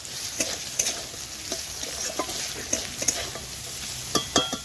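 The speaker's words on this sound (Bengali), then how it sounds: "আলুটা দেখুন ভালো ভাজা মতন হয়ে গিয়েছে" Salted potatoes fry in a pan with a soft, continuous sizzle, broken by several sharp clacks and scrapes as a spoon stirs them.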